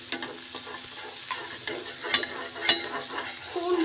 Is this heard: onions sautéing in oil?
yes